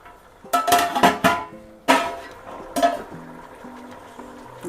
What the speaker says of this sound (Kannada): ಟೊಮೆಟೊ ಹಾಕ್ಕೊಂಡು ಮಿಕ್ಸ್ ಮಾಡ್ಕೊಳ್ಳೋಣ